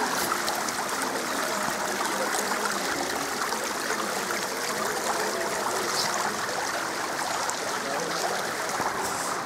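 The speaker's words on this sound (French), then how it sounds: "on entend l'eau couler, c'est super agréable" A small forest stream flows steadily and continuously, a close, even rush and trickle of water with no voices over it.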